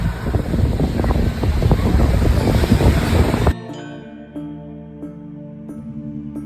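Strong wind and rolling surf at a beach roar loudly for about three seconds, then cut abruptly to a much quieter scene with soft sustained tones.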